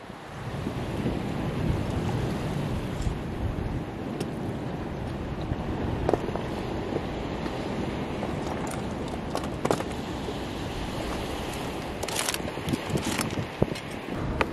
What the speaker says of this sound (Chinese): 因为海边风太大了